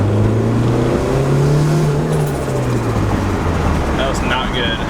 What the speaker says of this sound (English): Oh, my car sounds like it's about to die.